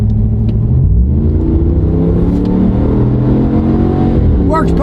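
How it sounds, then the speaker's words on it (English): A four-wheel drive vehicle accelerates along a straight wet road, its engine rumbling steadily and rising slightly in pitch, with close interior tyre and road noise continuing throughout. "give it a little gas on the straightaway"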